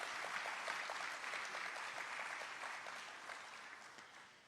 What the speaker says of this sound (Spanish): Why don't you give a round of applause to the Lord?